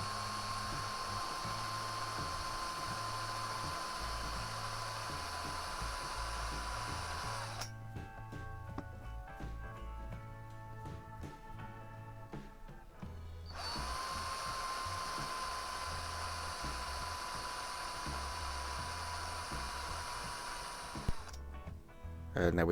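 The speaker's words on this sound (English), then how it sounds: "This now allows us to drill with a small drill first of all," A small drill bores a pilot hole through a rivet on a Corgi Hillman Imp die-cast model, whining steadily and close up, with a brief pause in the middle before it runs again.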